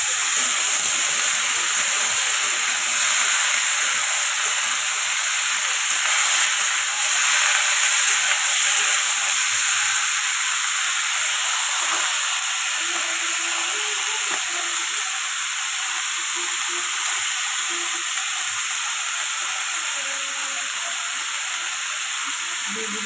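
Ivy gourd, potato, pumpkin and pointed gourd sizzle in a pan of hot oil, a loud steady steaming hiss running throughout with a few faint stirring knocks underneath.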